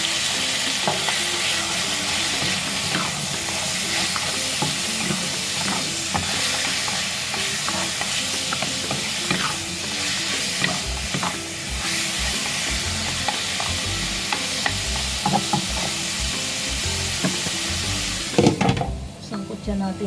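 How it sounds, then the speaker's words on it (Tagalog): Onion and spare ribs sauté in a hot pan with a continuous loud sizzle and frequent stirring clatter, close up throughout, with a brief burst of louder scraping near the end. "Gisa ang sibuyas."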